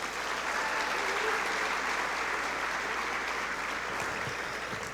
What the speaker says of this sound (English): All right, I want everybody to give the 2020 volleyball team a round of applause.